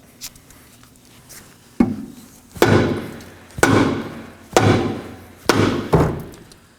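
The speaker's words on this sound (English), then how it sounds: "Now I'm going to use a rubber mallet to remove the brake drum." Rubber mallet blows hit a rusted brake drum on a 2013-2019 Nissan Sentra rear hub, one light tap then five heavy, evenly spaced whacks with ringing metallic decay, close and loud.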